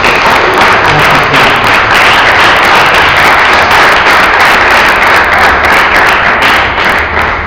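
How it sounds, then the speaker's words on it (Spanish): Loud, sustained applause from a church congregation fills the space, dense clapping steady throughout with no voices on top. "Démosle un fuerte aplauso a nuestro Dios."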